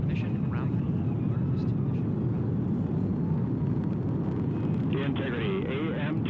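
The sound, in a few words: Artemis II rocket main engines during launch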